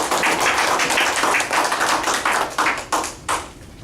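An audience gives a sustained round of applause for the speakers at a speaking event, dense crowd clapping close and loud, then thinning into a few scattered claps that fade out near the end.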